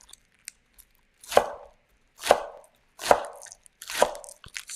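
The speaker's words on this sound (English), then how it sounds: "Thinly slice them." A knife slices a large bunch of fresh spring scallions thinly on a board, four distinct chops spaced about a second apart, close and crisp with no talking.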